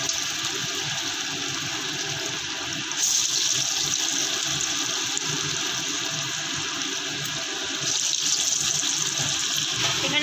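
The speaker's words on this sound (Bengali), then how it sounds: "তেলের মধ্যে বড়াগুলো ছেড়ে দেওয়া হচ্ছে।" Cabbage fritters sizzle in hot oil in a wok, a steady, loud frying hiss that runs the whole time, with no voices.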